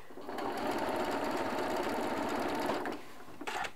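A sewing machine chain-stitching quilt pieces runs in one steady burst of rapid needle whir for close to three seconds, then stops and gives a brief final stitch, close and fairly quiet.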